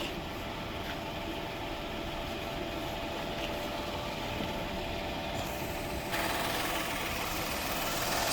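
A 2018 Kia K7 with a 3.0 petrol engine runs steadily up close, a constant even hum and whir with no voices, brightening slightly near the end.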